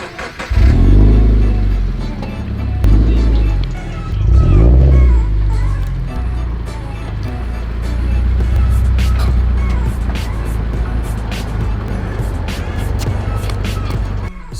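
A car engine runs at night while the vehicle is slowly repositioned. It gives a loud, close, low rumble that swells twice with revving and then settles into a steady idle drone, with a voice speaking over it.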